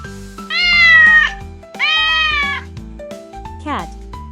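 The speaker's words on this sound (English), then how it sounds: "Cat." A cat gives two long, drawn-out meows close up, then a short rising mew at the end, over steady background tones.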